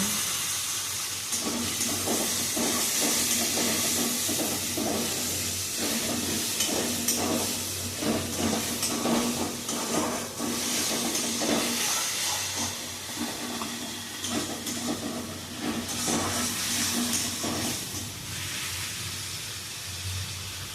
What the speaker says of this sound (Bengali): আদা আর রসুন বাটা, আর একটা মিডিয়াম সাইজের পেঁয়াজ ও একটা মিডিয়াম সাইজের টমেটো বাটা দিয়ে দেবো, দিয়ে ভালো করে নেড়ে নেব।